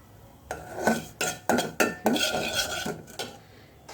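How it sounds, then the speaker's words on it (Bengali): Semolina being stirred and lightly roasted in a pan on a gas stove for egg pudding, with a series of scraping and clinking utensil strokes against the pan, close and moderately loud. "সুজিগুলো দিয়ে নাড়তে থাকবো। হালকা ভাজবো সুজিগুলা, খুব একটা ভাজবো না।"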